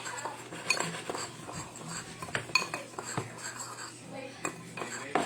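Seasonings mixed in a bowl with a utensil, a quick run of close clinks and scrapes of metal on the dish that keeps going steadily, with a faint voice now and then underneath.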